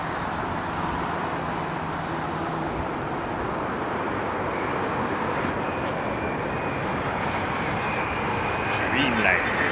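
A Star Wars-liveried Airbus A350 passes over Heathrow with a broad, continuous jet roar that swells slightly toward the end, steady and loud overhead.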